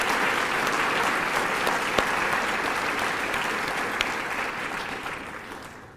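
Sustained audience applause for faculty at a white coat ceremony, a dense steady wash of many hands clapping that holds for several seconds before tapering off near the end.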